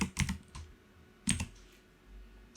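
Keystrokes on a computer keyboard while CSS code is entered, two short bursts of quick clicks separated by a pause, close and fairly quiet with no talk.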